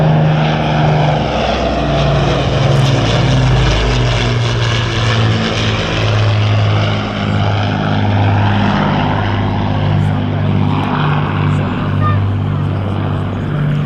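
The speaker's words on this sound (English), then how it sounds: "place is taken by the Lancaster." Avro Lancaster bomber's four propeller engines droning loudly overhead at an RAF Cosford airshow, a continuous deep throbbing roar that swells and holds throughout.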